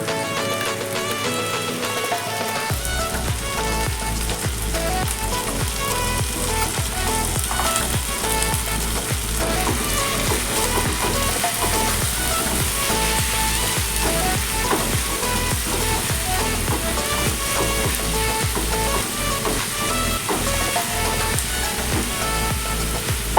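Ginger, garlic and green chili paste frying in a pan for a fish curry, a loud continuous sizzle with crackling spatter throughout, heard up close without talk.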